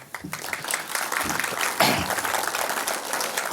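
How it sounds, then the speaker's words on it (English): Audience applause at an apprenticeship branding conference fills the room, a dense, steady clapping from many hands that carries for several seconds without any talk over it. "A round of applause, if I may."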